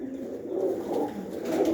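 Pigeons cooing close by, soft rolling low coos that rise and fall in overlapping phrases with no talk.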